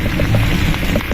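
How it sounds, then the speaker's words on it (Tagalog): Rain falls in Baguio City, heard as a loud, steady hiss of drops on surfaces, dense and continuous for a brief moment, with no voices. "Umuulan siya."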